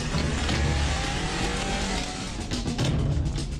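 A car pulling away with squealing tires, loud and close, with a revving engine and a skidding screech running continuously throughout, no talking over it.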